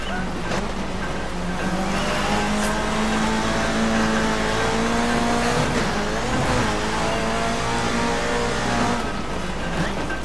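A racing car engine in the video game Dirt 3 roars steadily and loudly throughout, with rising and falling pitch as it shifts gears, plus brief tire noise.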